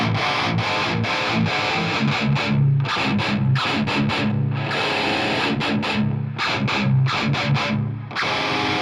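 Distorted electric guitar played through a Cabinetron IR loader, a steady, dense wall of crunchy chords with rhythmic chugging stabs and brief gaps, loud and continuous with no voices.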